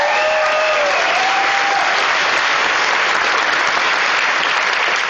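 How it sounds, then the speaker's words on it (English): A conference audience gives a big round of steady applause, many hands clapping loudly and continuously in a large hall, with scattered cheers but no talking. "Big round of applause."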